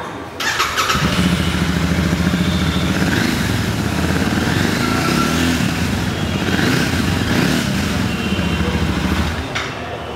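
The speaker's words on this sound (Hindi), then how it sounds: "तो ये थी रॉयल इनफील्ड के 650 इंटरसेप्टर की आवाज़" A 2023 Royal Enfield Interceptor 650 motorcycle engine idles loudly and steadily, its deep throbbing exhaust rising briefly as the throttle is blipped, then settling back.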